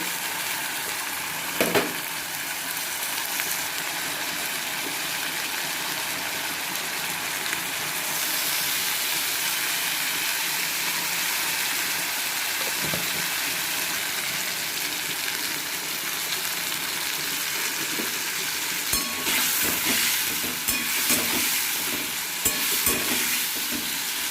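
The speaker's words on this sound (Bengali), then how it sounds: "আলুটা ভেজে নিই তারপরে বাকি ভাজা ভাজি আমি করে দেবো আলুটা ভাজি" Potatoes fry in hot oil in a home kitchen with a steady, close sizzle, joined by occasional scraping stirs and a few louder clatters toward the end.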